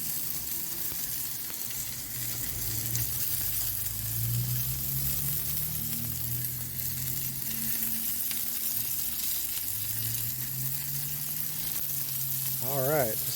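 Venison smash burgers and buns sizzling on a griddle, a steady close hiss of frying with a low background hum throughout, no speech.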